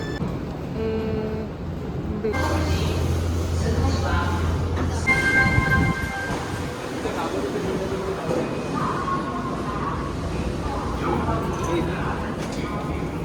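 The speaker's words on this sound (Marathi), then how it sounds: "सो आम्ही ट्रेन पकडली" Rumbling train interior noise on a train in Japan, with a steady low hum and rattling, plus a brief tonal drone early on; people talk over the continuous ride sound.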